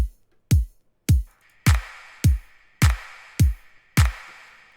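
Eight punchy electronic kick drum hits land at a steady tempo, with bright hi-hat ticks layered between them, loud and dry with no voices.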